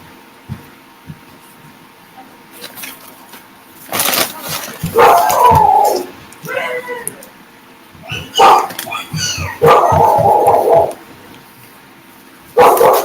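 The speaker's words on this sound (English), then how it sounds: "I hear a puppy." A puppy barks and yips in loud bursts, with quiet gaps between clusters of sharp, high barks close to the microphone and some whimpering squeals mixed in.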